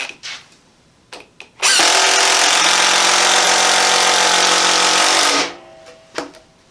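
A Porter-Cable impact driver rated at 1,800 inch-pounds of torque drives a screw in one loud, steady burst of hammering whir lasting about four seconds, with brief clicks and handling noise before and after.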